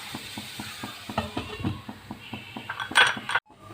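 A pan lid clinks and rattles during home breakfast cooking: a string of small, regular metallic ticks followed by a louder clatter as the lid settles, close by and fairly quiet.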